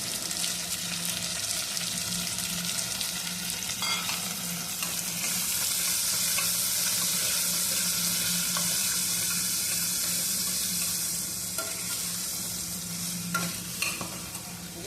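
Cut carrots and potato pieces tumble into a hot pan for vegetable sagu, setting off a loud, steady sizzle that swells and holds, with light stirring scrapes close by.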